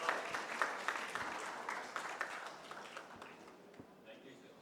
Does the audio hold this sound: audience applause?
yes